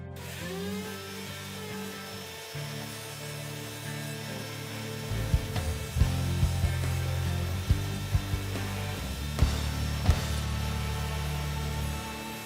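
A jointer motor hums steadily, then its cutterhead bites into the edge of a wooden board for an end grain cutting board, adding a rough, louder planing roar with sharp knocks as the board feeds through.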